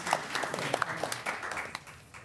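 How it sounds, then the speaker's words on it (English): Modest clapping from a small group at a city council meeting, fairly quiet and uneven, with separate hand claps standing out and the applause tapering off toward the end. "you're welcome to clap for everybody"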